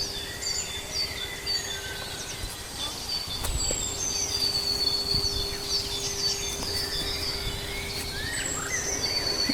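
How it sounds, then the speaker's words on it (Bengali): Out in an open mustard field, small birds chirp and trill faintly at a distance over a soft outdoor hiss, with a thin steady hum running underneath and no voices. "তবে আমি শুনতে পাচ্ছি পাখি ডাকছে।"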